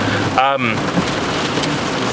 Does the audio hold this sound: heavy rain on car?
yes